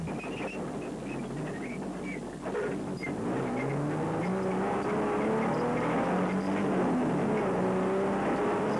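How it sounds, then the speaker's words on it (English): Rally cars, including a blue Ford, run along a smooth farm road during the 2005 Toyota Dealer 1000 rally, giving a steady engine drone with rising and falling pitch under heavy wind noise. "Schroeder, leading Class D in that distinctive blue Ford, was gliding over the smooth farm road"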